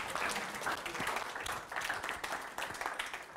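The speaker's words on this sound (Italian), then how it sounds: "grazie, un applauso" An opera-rock theatre audience applauds steadily throughout, a dense continuous wash of many hands clapping at fairly even loudness with no voices standing out.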